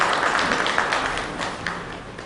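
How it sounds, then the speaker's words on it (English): Audience at a banking and financial inclusion conference applauds a speaker being invited on stage, a dense, steady wash of many hands clapping that fades slightly toward the end. "A round of applause for Mr. Abu George."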